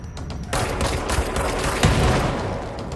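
Gunfire in the action video game Control, a loud dense burst of shots with booming impacts that starts suddenly and keeps rumbling to the end.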